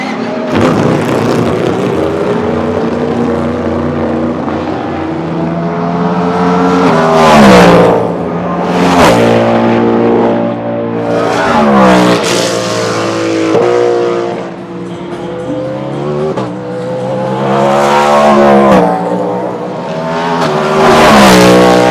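Cadillac hypercar with a V8 engine racing in the World Endurance Championship, loud and close, its engine repeatedly climbing through the revs with sharp gear changes and brief lifts between long, roaring pulls.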